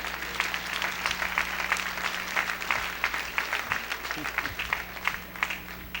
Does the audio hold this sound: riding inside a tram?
no